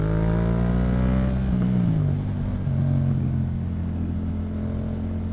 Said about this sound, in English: Whenever you're getting off of a turn, you just hit the throttle.